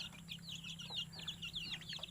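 Native chickens on a farm in Aurora, clucking and chirping calls repeating close by in quick irregular bursts over a low steady hum, with no talking.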